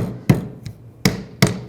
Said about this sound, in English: Now for the base, just take a hammer,